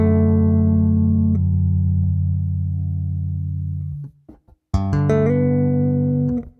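A bass guitar plays through a Laney Digbeth amp with the mids heavily boosted, producing long sustained notes with a nasal, cutting tone, a brief pause, then a new phrase of sustained notes with quick tapped changes.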